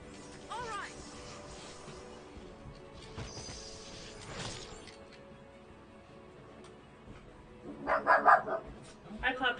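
A dog barks in Final Fantasy XIII amid game sound effects and a talking voice, with a cluster of sharp yips and barks coming near the end over mechanical clanks.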